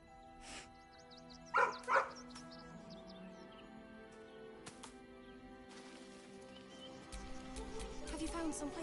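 A dog in the video game Baldur's Gate 3 gives two sharp barks early, then quieter yips and whimpers among game ambience and music, with speech in between.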